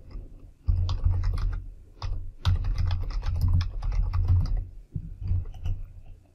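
Someone typing on a computer keyboard, entering a name into a project-management web form, with quick bursts of close, crisp keystrokes separated by brief pauses.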